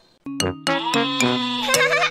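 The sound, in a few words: sheep bleating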